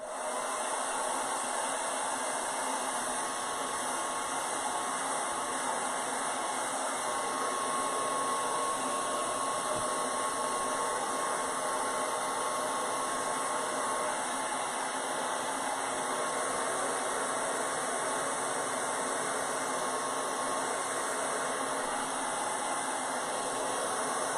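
A handheld dryer blows a continuous, even whooshing drone over acrylic paint on a flower pot, loud and close with a steady whine throughout and no speech.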